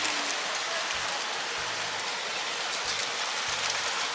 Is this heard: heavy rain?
yes